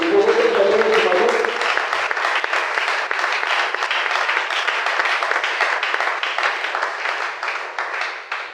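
A church congregation applauds and cheers for the Lord, a loud, dense, steady wash of clapping from a large crowd that lasts throughout, with voices briefly audible at the start.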